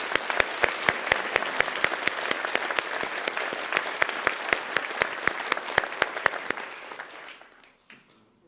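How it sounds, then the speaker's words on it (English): A crowd claps steadily for several seconds, loud and close, then the applause thins out and fades away. "here's one more round of applause to all the work you just did."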